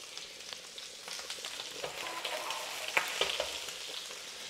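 Pork ribs sizzle in a frying pan in a home kitchen during New Year's Eve meal preparation, a steady crackling hiss with occasional sharper pops and clinks, close and alone.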